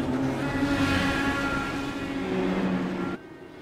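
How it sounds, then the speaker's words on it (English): IndyCar engines in the iRacing game scream at high revs, coasting in neutral on the Milwaukee Mile oval, a steady loud tonal drone of several cars that cuts off abruptly near the end. "you can hear some of the drivers have it coasting in neutral and have those RPMs up into the red"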